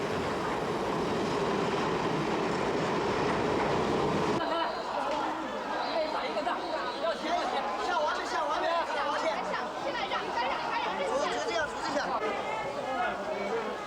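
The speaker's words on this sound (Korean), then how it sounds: "기차는 3등석이다." Riding in a third-class passenger train carriage headed to Xinxiang, China: a constant rumble of wheels on track gives way to a busy murmur of passengers chatting all around inside the car.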